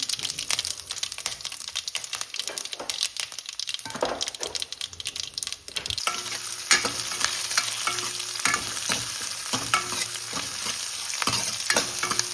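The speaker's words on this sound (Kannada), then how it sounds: "ಎಣ್ಣೆ ಚೆನ್ನಾಗಿ ಕಾದಿದೆ. ಸಾಸಿವೆ, ಕರಿಬೇವು, ಒಣಮೆಣಸಿನ್ಕಾಯಿ," Mustard seeds, curry leaves and dry chillies frying in hot oil, a busy crackling sizzle with sharp pops and a few stirring clinks that settles into a steadier, louder fry partway through.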